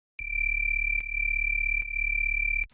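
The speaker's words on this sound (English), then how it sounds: "We start with just this sine wave at -2." A synthesizer sine wave pitched two semitones down, with phase distortion driven by oscillator B, sounds as a steady bright tone with buzzy overtones, retriggered in three even notes, loud and clean with no voices.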